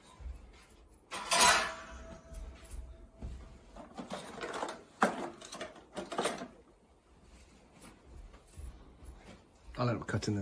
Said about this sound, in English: So I'm just going to take the fan off now.